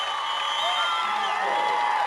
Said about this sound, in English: A big round of applause as Chase Mundell exits as well